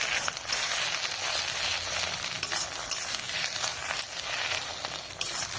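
Steady, loud sizzling of frying in mustard oil in a kadai, with dry red chillies added to a mustard greens dish cooking, a continuous crackling hiss running throughout with no talk.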